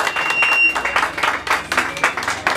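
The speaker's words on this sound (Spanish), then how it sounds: "Un fuerte aplauso para los muchachos de Mariachi que se escuchen" Crowd applause and clapping for a mariachi band at a birthday party, a dense burst of hands swelling and fading in waves over a couple of seconds with voices mixed in.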